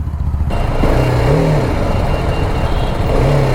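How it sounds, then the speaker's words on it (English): A BMW G310R single-cylinder motorcycle engine runs loud and close, rising and falling through a couple of revs over steady wind and engine rumble. "It feels like it's a rev happy engine"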